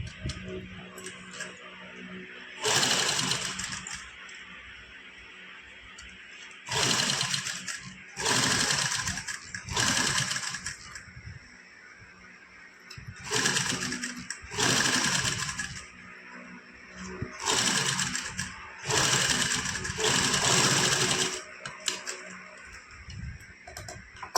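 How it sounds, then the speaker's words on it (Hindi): A sewing machine runs a long basting stitch through fabric near a collar, in several loud bursts of fast rhythmic whirring and clacking separated by pauses with quieter handling noise in between. "ਇਸ ਤਰ੍ਹਾਂ ਕੱਚੀ ਸਲਾਈ ਲਗਾ ਲਾਂਗੇ ਇਹਦੇ ਤੇ"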